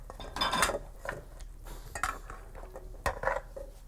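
Large pieces of roast pork are set onto a plate with soft clinks and scrapes of cutlery against dishes, several quiet irregular touches close by.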